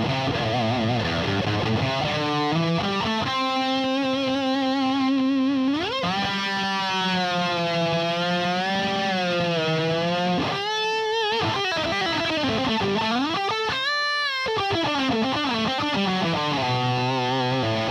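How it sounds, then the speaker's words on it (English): Electric guitar played through an MXR 5150 overdrive pedal with the mids dropped for a scooped tone: heavily distorted sustained notes and sliding bends, loud and continuous, with no talking. "Drop mids to get a scooped sound."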